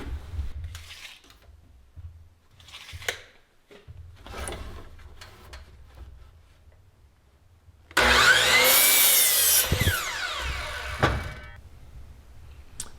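Wood pieces for an attic access are cut, first with scattered knocks, scrapes and handling of lumber, then a loud burst of sawing that runs a few seconds before stopping, near and without talk.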